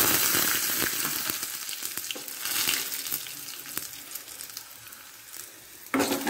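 Chopped chillies go into hot garlic in oil for a cucumber curry and sizzle close by, a steady frying hiss with sharp crackles and pops that fades slightly, then flares again near the end.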